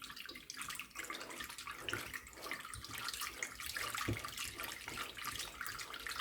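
Hands swirl dry yeast through a bowl of water for homemade pizza dough, a steady close sloshing and splashing that rises and falls with the stirring, quiet and continuous, with a few brief thumps and no voices.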